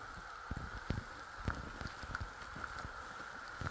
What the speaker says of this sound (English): The rain is starting to drizzle again.